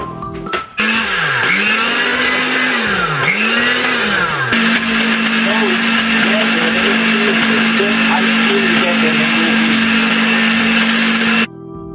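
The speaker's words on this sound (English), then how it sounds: "So we close the blender and we will blend the mixture." A blender blending mango puree whirs loudly nearby, its motor pitch dipping and rising a few times before settling into a steady high whine, then it cuts off.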